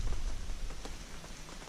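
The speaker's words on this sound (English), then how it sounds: "Like it's raining actually pretty good" Steady heavy rain pattering on a campsite canopy during an overnight rainstorm on Vancouver Island, a dense, close, continuous hiss of drops with no voices.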